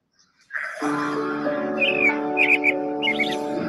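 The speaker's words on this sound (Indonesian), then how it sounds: "Pagi-pagi memang senang banget dengar kicauan burung" Bird chirps and bright whistled tweets ring out over a sustained tonal bed in a radio jingle, a steady layered tune with repeated high calls sounding close and clear.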